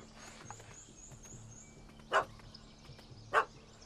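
Two sharp, loud dog barks, a couple of seconds apart, from a small dog in The Witcher 3: Hearts of Stone, rising over a quiet ambient game backdrop.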